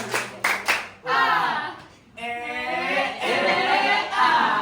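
A small group claps hands a few times in quick, sharp bursts, then breaks into loud, sung group chanting that carries through the rest.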